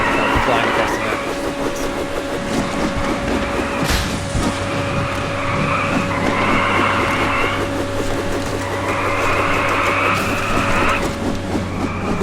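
A modded car in Just Cause 2 skids out of control, with a droning engine, tonal whine and repeated screeching tire bursts over a steady hum while someone talks throughout.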